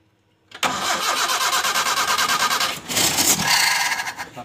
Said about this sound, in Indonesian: Coba di starter.